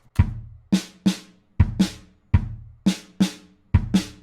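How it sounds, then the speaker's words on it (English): A sparse drum groove of kick and snare hits in a steady rhythm, loud and clear, with no cymbals or claps. "And so our drums without the hi-hat, tambourine, or clap in the verse sound like this."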